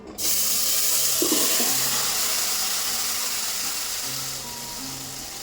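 Marinated pumpkin pieces fry in hot oil in a pan, giving a steady, close sizzle with faint crackle throughout and a brief clatter near the start.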